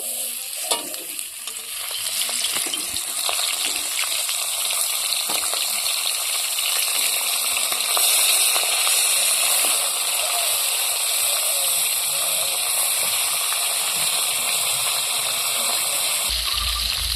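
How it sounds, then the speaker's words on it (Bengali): Fish seasoned with salt and turmeric fries lightly in hot oil in a kadai, giving a steady, bright sizzle with crackling that runs continuously and stays fairly loud throughout. "মাছটাকে আমি হালকা ভেজে নেব।"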